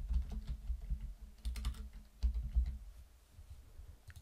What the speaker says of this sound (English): If we go to the directory and type in Mr. Joe Soap